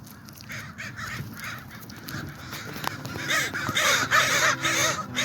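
Crows cawing repeatedly among other birdcalls outdoors on a nature trail at Thomas Lake, Washington State, growing louder and busier toward the end, with several overlapping calls.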